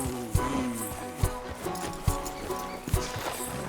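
Horse hooves clip-clopping in the Red Dead Redemption 2 video game, a steady walking rhythm of dull thuds close by, with a faint whinny and light game ambience underneath.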